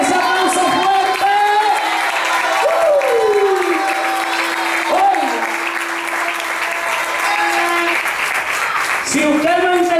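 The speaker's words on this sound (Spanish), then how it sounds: "Dale ese aplauso fuerte." Loud, sustained applause fills a church service, steady clapping from a congregation running the whole stretch, with a voice and sustained tones carrying over it.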